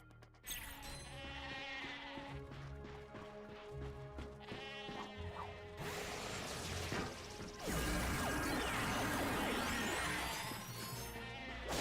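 Sheep bleat repeatedly in the Ratchet and Clank video game, mixed with loud crashes, smashes and whooshing action effects that grow denser later on.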